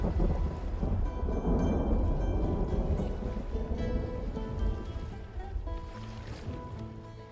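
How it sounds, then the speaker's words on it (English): Steady rain with low rumbling thunder in the video game Vintage Story, a dense continuous wash of noise with deeper swells, no voices. "Sounds like it's raining outside."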